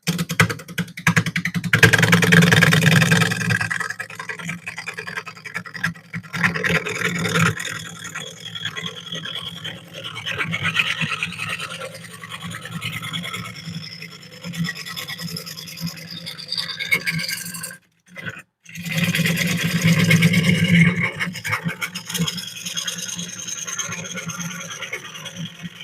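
A gouge cuts a wooden bowl spinning on a lathe, giving a loud, close scraping and rasping that comes in long bursts, with a brief pause partway through.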